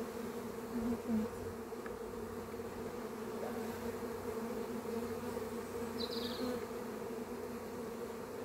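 Honey bees buzz steadily throughout a spring hive inspection, a dense, continuous drone close by with a faint higher whine drifting past near the end and no talking.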